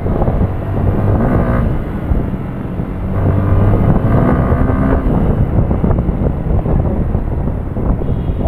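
A Yamaha R15 V2 motorcycle, seven years old, cruises at speed, its engine a steady low drone buried under heavy wind rush that swells and eases, with no voices.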